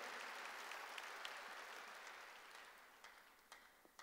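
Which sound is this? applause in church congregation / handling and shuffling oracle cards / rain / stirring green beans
applause in church congregation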